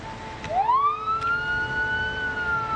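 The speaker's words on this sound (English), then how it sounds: "the safer thing would be to just blow the siren for a couple minutes" A siren blares in the zombie survival game Project Zomboid, rising sharply into a loud sustained wail that holds steady over a constant background hum, with no voices.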